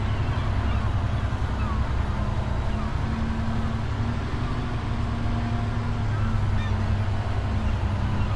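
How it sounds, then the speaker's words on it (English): In Farming Simulator 25 on the Witcombe Park Farm map, seagulls cry in repeated drawn-out calls over a constant, dense ambient wash. A voice talks over them. "Seagulls are back in force."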